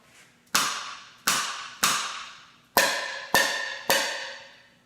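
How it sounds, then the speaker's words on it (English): Hammer tapping engine valves in an old car engine checking for stuck valves: six sharp metallic pings, evenly spaced and ringing briefly, close and fairly quiet with no talking. "So when I hit them with this, you should hear like a pling sound."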